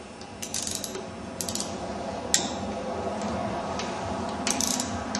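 A ratchet wrench loosens bolts on a Yamaha YFZ engine, giving rapid, fairly quiet clicking in a few short runs over a steady background hum.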